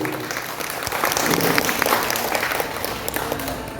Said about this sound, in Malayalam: അദ്ദേഹത്തിന് നല്ലൊരു കൈയടി കൊടുക്കാൻ നമുക്ക്